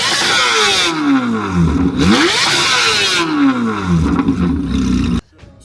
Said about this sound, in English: So you just heard the C8 Z06